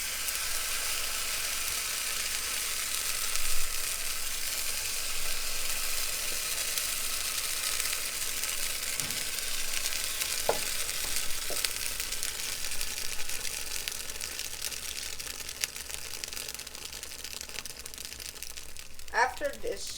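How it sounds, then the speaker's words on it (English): Pancake batter frying in a hot pan, a steady hissing sizzle that runs the whole time, with a few faint clicks and scrapes near the end. "Now we'll need to put the mix into the pan."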